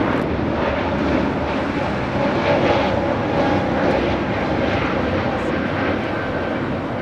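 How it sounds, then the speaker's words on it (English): A Spirit Airlines Airbus A320neo takes off at Los Angeles International Airport, its engines producing a loud, steady broadband roar that holds throughout without fading. "This is Spirit Airlines 2520 taking off to Milwaukee on the A320neo."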